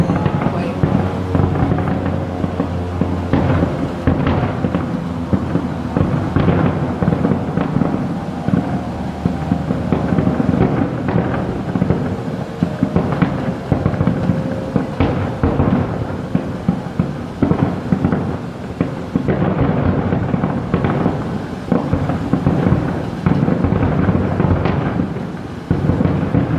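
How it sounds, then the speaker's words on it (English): A fireworks show finale outdoors, with dense, continuous booms and crackling bursts packed together for the whole stretch, loud and close, with some wind buffeting the microphone. "So the fireworks are over"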